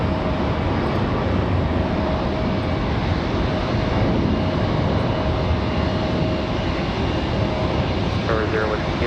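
A JetBlue airliner in Boston Celtics livery rolls for takeoff on runway 5 left at Raleigh-Durham, its steady broadband engine roar filling the scene as a loud, continuous wash, with radio chatter and talk over it.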